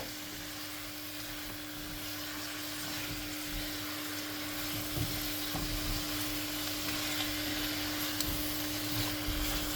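Chicken wings sizzle steadily in a pan over a low flame, a soft continuous frying hiss with a low hum underneath and no talking.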